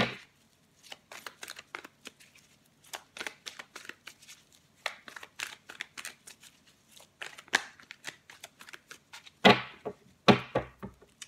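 Tarot cards are slid, shifted and laid out on a table in rapid, close, irregular flicks and soft slaps, with a couple of louder thumps near the end.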